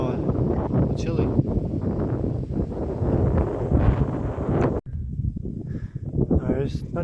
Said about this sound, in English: It's a little cloudy and windy today.